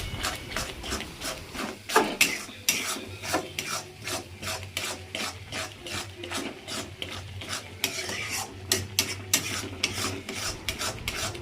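A spoon scrapes and stirs tilapia curry ingredients with Kashmiri chilli powder in a pan, making steady rhythmic rasping strokes close by, with a low hum underneath.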